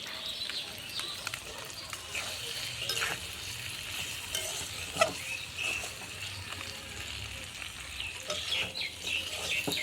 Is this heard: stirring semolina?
yes